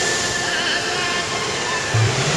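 A roadside waterfall in Thailand gives a steady, dense rushing roar of falling water that holds even and fairly loud all the way through, with no voices over it.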